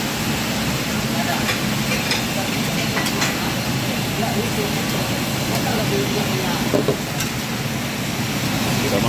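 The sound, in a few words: cooking Mie Aceh noodles in a pan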